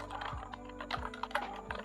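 Keys clatter on a computer keyboard while text is typed into a code editor, a quick uneven run of close, crisp clicks with a low hum underneath and no talking.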